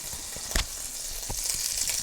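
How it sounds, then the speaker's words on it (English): Butter melts in a hot pan with a steady, bright sizzle, while a utensil pushing it around adds a few short scrapes and knocks nearby. "So we're going to just help that along so that it melts."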